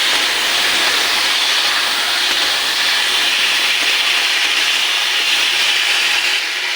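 Green chilies, chopped tomato, ginger, tomato paste and chili paste sizzle steadily in hot oil as the base for a sarputi fish curry, a loud, even frying hiss throughout.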